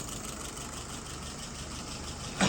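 An engine idling smoothly at low revs, a steady, even rumble heard close up and alone, rising slightly right at the end.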